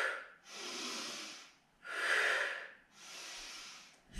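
Three long, deep audible breaths taken during a Pilates workout with a stick, each a broad airy rush lasting over a second, close and clear with short pauses between and no talking.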